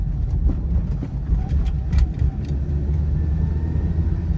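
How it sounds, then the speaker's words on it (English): A deep, rough exhaust rumble from a 1997 Toyota RAV4 close by, steady and loud, with a few faint clicks over it. "The noise from this exhaust is unbearable."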